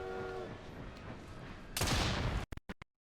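Explosion in the video game Assassin's Creed Syndicate, a loud broadband blast about two seconds in, followed by a few sharp cracking bursts as it dies away.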